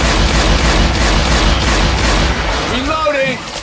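Dense gunfire rattles continuously at close range in the Hard Rain campaign of Left 4 Dead 2, loud bursts packed together before easing near the end as a voice speaks over it.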